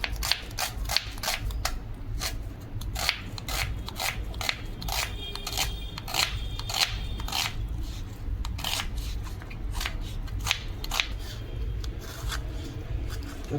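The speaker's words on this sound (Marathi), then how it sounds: "तर इकडे आपण कांदा घेतलाय, बारीक चिरून घेऊया आपण" A knife chops an onion finely on a board for a village-style prawn curry, with a fast, steady run of crisp, close taps over a low background hum.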